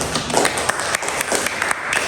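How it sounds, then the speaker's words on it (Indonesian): A group gets dense applause in a classroom during a teaching performance test, steady clapping from many hands filling the whole moment, fairly close and loud. "Tepuk tangan buat kelompoknya"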